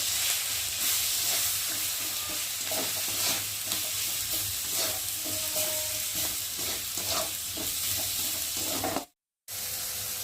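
Spice masala with tomato, cumin and turmeric sizzles steadily in a pan for a taro and soybean dish, with repeated scraping stirs over a continuous frying hiss and a brief gap near the end.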